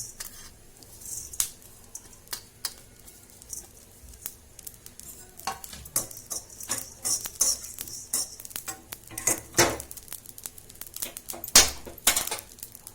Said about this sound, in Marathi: थोडे हे धने आणि जिरं भाजून घेऊ